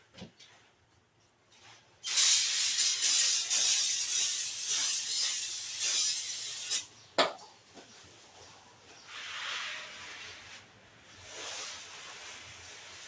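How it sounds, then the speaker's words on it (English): Carb cleaner sprays from an aerosol can onto a small engine in a workshop, a long loud close hiss lasting several seconds, then a clack and shorter, softer bursts of spray. "Good old carb cleaner"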